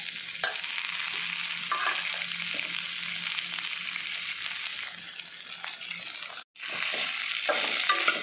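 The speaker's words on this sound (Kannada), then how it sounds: "ಎಣ್ಣೆ ಪೂರ ಮಿಕ್ಸ್ ಮಲ್ಪುಗ" Okra frying in oil for bhindi masala is stirred in a pan, giving a continuous close crackling sizzle with scraping strokes, one brief dropout near the end, no speech.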